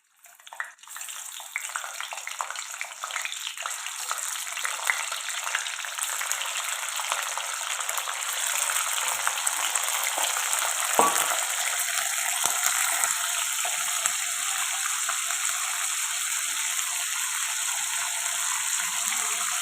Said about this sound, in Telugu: ముందైతే మనము ఫిష్ని అయితే ఫ్రై చేసుకోవాలి